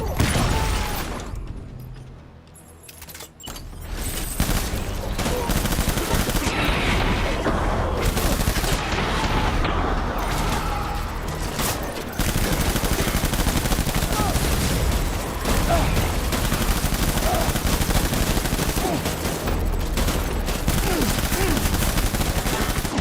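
Gunfire rattles in the Death Stranding video game's Song of Silk battle on very hard difficulty, with dense sustained bursts and booms that dip briefly early on, then a loud continuous barrage with voices shouting over it.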